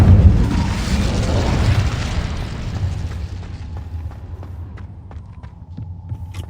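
Incendio fire spell cast in Hogwarts Legacy, a loud deep whooshing boom of flame that fades over a few seconds into quieter crackling ticks.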